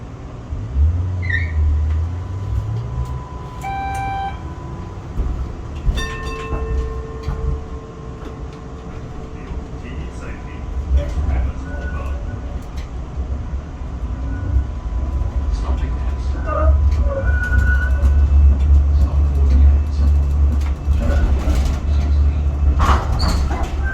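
A Melbourne tram rumbles past close by, its low rolling drone building toward the end, with a few short electronic tones and faint voices early on.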